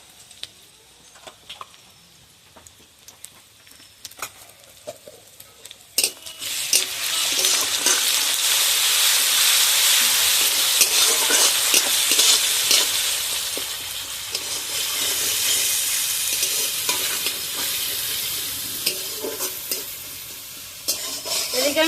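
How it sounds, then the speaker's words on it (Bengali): Ginger garlic paste hits a hot pan while ghugni with peas and potato is cooked. A few light kitchen taps come first, then a loud, sustained, crackling sizzle fills the rest with occasional stirring scrapes. "এবার আমি আদা রসুনটা দিয়ে দেবো আদা রসুন বাটা"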